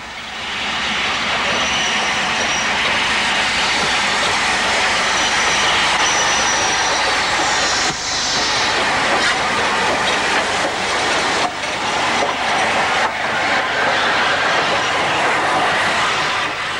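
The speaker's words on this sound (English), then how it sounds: "Black Five arriving with a special train from Stoke" A Black Five steam locomotive hauling a special train rumbles past at close range, wheels clattering over the rails with a continuous loud roar and occasional squeal.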